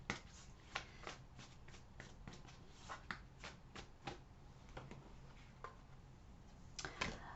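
Tarot cards shuffled by hand close up, a run of quick papery riffles and soft slaps in an irregular rhythm, quiet overall.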